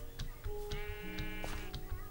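Sheep bleating in the Minecraft video game, several wavering calls over a steady backdrop of game ambience, clearly audible at moderate level with no talk.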